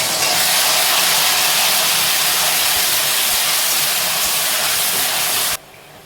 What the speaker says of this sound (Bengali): তো আমাদের তেলটা গরম হয়ে গেছে, এর মধ্যে এবার দিয়ে দেবো পেঁয়াজের পেস্টটা।